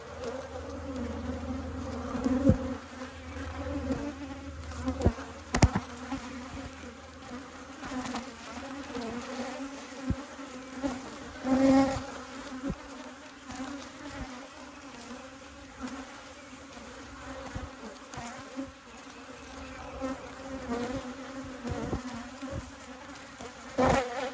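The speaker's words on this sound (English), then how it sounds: "I'm just going to continue checking some bees because I haven't checked them in for a while" Honey bees buzz steadily around an open hive during an inspection, a dense, continuous drone close by, with occasional louder passes as individual bees fly near; no one speaks.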